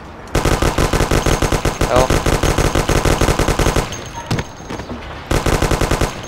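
Rapid automatic gunfire from a Mafia 1 character shooting while jumping: loud, evenly spaced bursts of shots, a pause with scattered clicks and a brief spoken word, then another fast volley.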